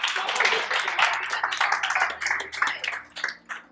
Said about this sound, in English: can we first clap for everyone for